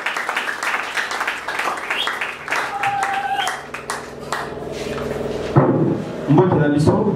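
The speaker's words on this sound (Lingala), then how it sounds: "Sous vos applaudissements, s'il vous plaît." Audience applause at an installation ceremony as the president is welcomed, scattered clapping building into a fuller round of applause, mixed with speech and some knocking and shuffling noises.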